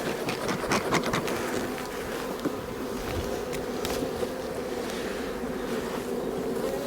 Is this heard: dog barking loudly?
no